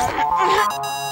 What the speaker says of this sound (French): Bah, c'est la sonnerie de mon portable